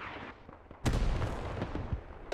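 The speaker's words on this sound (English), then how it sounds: "Hell cannon firing on their position." In a war video game, a hell cannon fires on an enemy position: one loud, close boom lands sharply after a brief quieter stretch, followed by rumbling debris and a few scattered smaller bangs.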